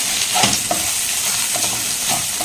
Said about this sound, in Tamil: ஸோ இப்போ நல்லா வதங்கிட்டு இருக்குது பாருங்கள்